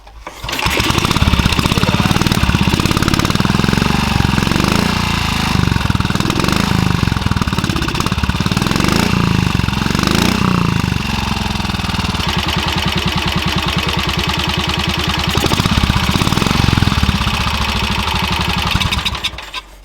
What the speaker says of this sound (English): That is a well-tuned Trials machine right there.